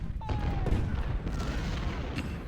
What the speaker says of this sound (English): Finally, my artillery's catching up